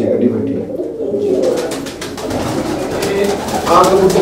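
Pure Meera pigeons cooing close by in a loft, soft repeated throaty coos rising and falling over a few seconds, with light background noise.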